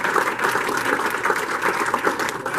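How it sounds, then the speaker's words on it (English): An audience gives a round of applause, steady dense clapping at moderate volume with no talking for a few seconds. "I would like to give you all a round of applause."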